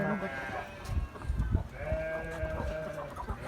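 Sheep and goats bleat in short, wavering calls nearby on a village farm, several overlapping, with cold wind noise and a person talking at times.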